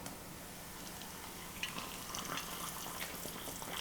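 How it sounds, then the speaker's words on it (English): Hot water poured over Indomie instant fried noodles, a steady broadband watery rush that continues throughout with slight splashy swells, close and moderately loud with no talking. "now I'm gonna put the water in"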